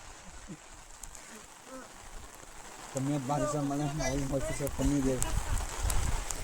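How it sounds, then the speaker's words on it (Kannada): Heavy rain pours down at Kavaledurga hill fort near Thirthahalli, a steady broadband hiss that runs through the whole clip, with a voice rising over it for a couple of seconds midway. "ಗೈಸ್ ಫುಲ್ ಮಳೆ"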